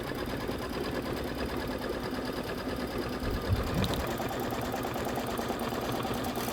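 An embroidery sewing machine runs a quilting stitch on a Kimberbell Cup of Cheer quilt block. The steady, dense, rapid needle chatter is loud and close, with a brief bump partway through and no talking.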